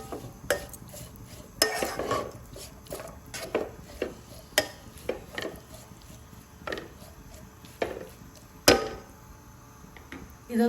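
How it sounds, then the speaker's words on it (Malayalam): Beetroot pachadi with a little added water is stirred in a pan, a spoon scraping and clinking against the metal in irregular close taps and knocks, some sharper than others, over a faint background hiss. "ഇളക്കി യോജിപ്പിക്കാം."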